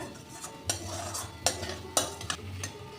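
Onion-based masala for cabbage muithya frying in oil in a pan, a soft steady sizzle broken by several sharp metallic spatula scrapes and clinks at irregular intervals, close and fairly quiet.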